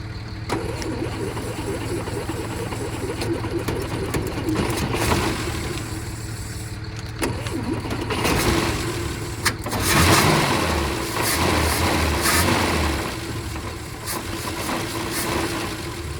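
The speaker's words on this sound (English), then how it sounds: "So I guess we'll see if the thing idles." An old military ambulance engine, unused for over 15 years, cranks and catches, then runs at a rough, loud, steady idle with uneven surges, close up and dominating throughout.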